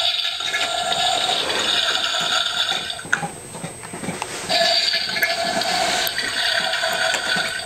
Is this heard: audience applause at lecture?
no